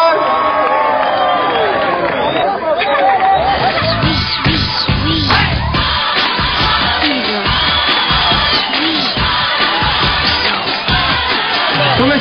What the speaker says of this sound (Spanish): Un aplauso para Anita como Lima, por favor.